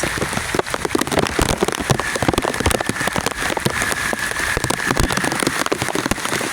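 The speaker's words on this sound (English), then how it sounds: "So much rain." Heavy hurricane rain pours down steadily, a dense hiss of countless drops pattering hard on surfaces close by, continuous and loud throughout.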